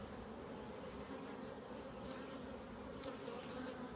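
Honeybees in a secondary hive that has lost its queen and shows no brood, opened for a health check: a dense, continuous buzz close to the ear, steady throughout, with a few individual bees zipping past.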